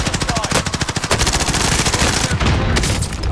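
Rapid automatic gunfire in a shooter video game, a fast continuous burst of loud close shots that runs through nearly the whole stretch, with a voice talking over part of it.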